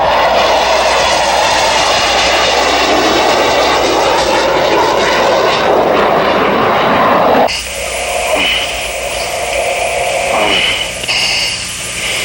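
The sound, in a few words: F-18 fighter jet flying overhead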